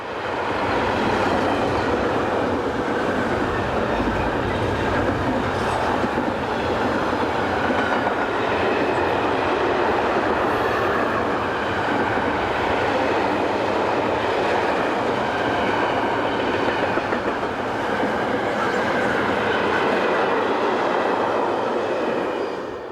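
Two Swiss Class 620 Re6/6 electric locomotives haul a freight train through Kandersteg, a loud, sustained roar of wagons rolling past with rhythmic wheel clatter and occasional squeal, close and unbroken for the whole stretch.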